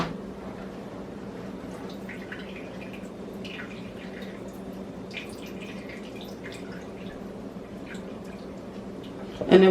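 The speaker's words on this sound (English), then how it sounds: "So I'm just going to drain this, put this over here and just drain it" Excess water and sauce drain off turkey souse in a home kitchen: soft, faint trickling and dripping runs steadily for several seconds, ending in a short louder clatter.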